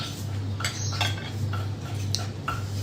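A pestle thumps and clinks in a mortar while santol salad is pounded, giving a quick run of irregular knocking strikes over a steady low hum.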